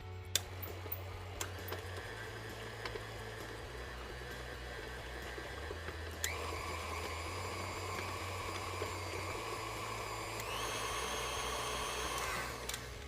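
A KitchenAid stand mixer creams butter for brownies, a steady motor whir with faint ticking of the beater, quiet and close, growing a bit louder midway and again near the end, with no talking.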